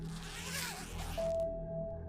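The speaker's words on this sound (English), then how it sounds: "It was the distinct sound of a heavy-duty zipper." A heavy-duty zipper right outside a tent is pulled open in one long, steady drag, the metallic rasp close by over a low ambient hum.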